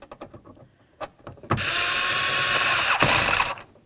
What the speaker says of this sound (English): Now we can start in our mounting screw and snug it up.